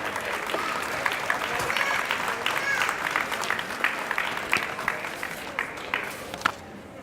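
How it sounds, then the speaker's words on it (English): An audience at a high school band spring concert claps in sustained, dense applause for several seconds before it starts to thin out, with a few voices mixed in. "So big round of applause for all you parents."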